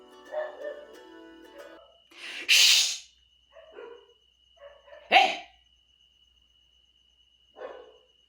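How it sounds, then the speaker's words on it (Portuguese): A dog barks in a few sharp, separate bursts across a quiet indoor scene, with soft whimpering between them. A voice briefly hushes it. "Esse cachorro."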